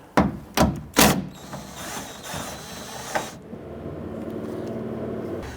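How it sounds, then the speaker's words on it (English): A 10mm socket ratchet works a bolt loose on a 2011-2017 Nissan Quest side-mirror mount. Three sharp clicks come first, then a fast run of ratcheting that trails into a softer whir. "Using a 10mm socket, loosen and remove this bolt."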